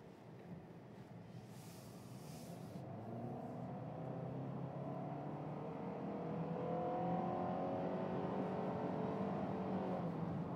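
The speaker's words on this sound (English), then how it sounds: "Let's see what the acceleration's like on the new CVT." A 2014–2015 Honda CR-V EX with a CVT accelerates from a stop, its engine note rising smoothly and steadily louder in a continuous, near drone without gear-shift breaks, heard from inside the cabin and with no talking.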